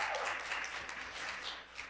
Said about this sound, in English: to give them a hand of applause.